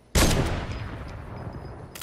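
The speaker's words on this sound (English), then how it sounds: "they're shooting at us now" Sudden loud burst of gunfire in a Fortnite squad match, starting sharply and trailing into a dense rattle of shots that continues throughout, with a second blast at the end.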